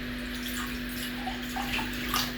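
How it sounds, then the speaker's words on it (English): Water is poured into oats with cinnamon and apple for a baby's breakfast, a faint, steady trickle over a low electrical hum, with no talk. "To add in some water."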